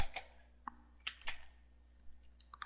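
Faint, sparse keystrokes on a computer keyboard, a handful of separate clicks spread irregularly through a quiet room, with no voices.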